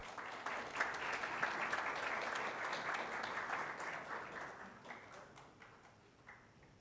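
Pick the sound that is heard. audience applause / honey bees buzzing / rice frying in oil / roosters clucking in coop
audience applause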